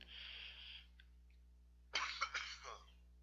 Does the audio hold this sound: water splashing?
no